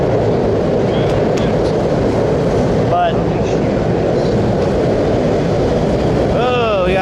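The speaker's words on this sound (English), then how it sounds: "we got a train. That's a loud one" A loud train rumbles past at night in Tokyo during hanami season, a dense low roar filling the whole stretch with wind buffeting the microphone and a brief voice over it.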